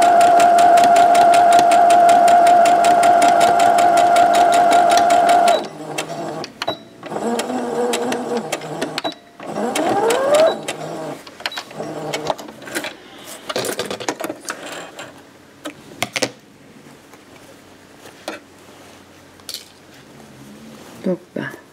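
A sewing machine overlocks the fabric edge of a dress, starting with a steady loud whirring run that breaks into shorter stop-start bursts with clicks and handling noises, close up.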